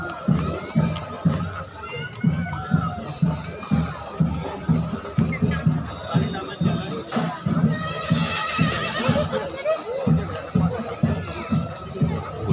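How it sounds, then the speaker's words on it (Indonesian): A pony at a cultural parade in Aceh whinnies amid a noisy crowd, with rhythmic clip-clop of hooves, shouting children and cheering throughout. "Kuda poni."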